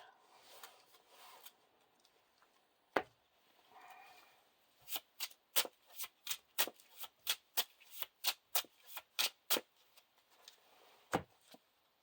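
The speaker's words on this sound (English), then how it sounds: "shuffle the encounter discard pile into the encounter deck" A few scattered card sounds, then a quick run of crisp riffling snaps as a Lord of the Rings card game deck is shuffled up close, ending with one last tap.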